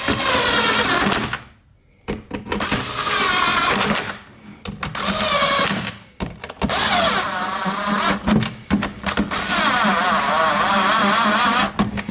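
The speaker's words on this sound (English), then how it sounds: "You can use the drill or you can do manually" A power drill with an 8mm socket runs in loud bursts of whirring, driving small 5mm nuts inside the fuse box of a BMW Z4 E85, with short pauses between runs.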